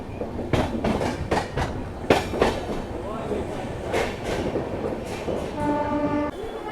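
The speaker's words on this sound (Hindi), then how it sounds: "लो भाई हमारी गाड़ी बक्सर अराइव कर रही है भाई खूबसूरत से कर्व के साथ" The Magadh Express rolls into Buxar railway station on a curve, rhythmic wheel clatter and metallic squeals close by, ending with a sustained horn-like tone, while a voice speaks over it.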